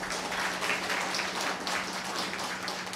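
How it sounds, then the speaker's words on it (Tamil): An audience applauding at a public speech, producing a steady wash of many hands clapping at moderate loudness for a few seconds. "கைத்தட்டல்"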